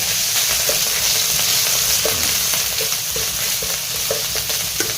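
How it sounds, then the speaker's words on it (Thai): Spicy wild boar stir-fries in a hot pan with a steady loud sizzle, broken by regular scraping knocks of the spatula stirring the meat, with no talk. "ผัดสักหน่อยนึงวันนี้"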